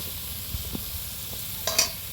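Quiet sizzling from a pan, broken by a few light scrapes and clinks as the food is stirred.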